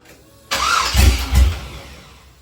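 A 1966 Chevy C10 with a swapped-in LS1 engine cranks and catches, a loud close burst with two heavy low thumps before settling back toward a quieter rumble.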